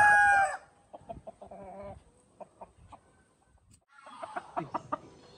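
Malaysian asil chickens are heard nearby: a rooster's loud crow is cut off at the start, followed by a string of short, sharp clucks and squawks in quiet surroundings.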